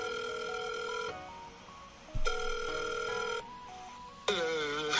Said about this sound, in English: I was going to turn my phone off, but it's actually ringing.